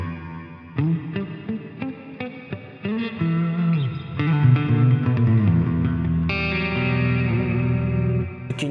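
Electric guitar notes and chords ring out through a lush reverb from an EarthQuaker Devices Astral Destiny pedal, each strum trailing into a long, washy tail that fills the space between phrases.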